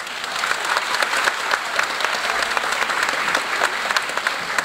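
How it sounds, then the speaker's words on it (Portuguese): A crowd at a Portuguese community Easter dance celebration in Toronto claps steadily for a newly crowned champion, a dense, even wash of many hands that holds at full strength from start to finish. "Deem palmas em geral a este novo campeão"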